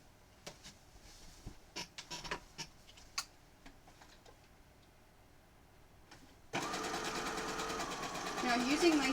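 A sewing machine stitches cat pillow pieces, starting after a stretch of scattered clicks and handling noises and then running as a steady, close mechanical whir to the end.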